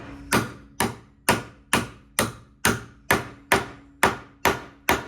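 A hammer drives a universal-joint cap out of a Ford Crown Victoria multi-piece drive shaft into a pipe. Eleven sharp metallic blows land close and loud at an even, steady pace, each ringing briefly.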